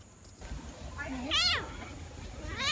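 A cat gives a couple of close meows, one short and rising and another louder and more drawn out, over faint background noise.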